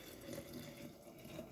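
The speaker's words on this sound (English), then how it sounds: "so you can just pour off the water" Water being poured off rinsed wheat in a thermos, a steady continuous splashing pour running throughout the short moment.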